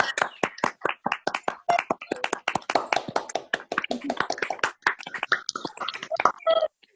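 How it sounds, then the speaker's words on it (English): An online coffee house talent-show crowd bursts into quick rounds of sharp clapping, a dense patter of close claps that rises, thins and returns in short waves before cutting off. "I like how the cheering comes in bursts"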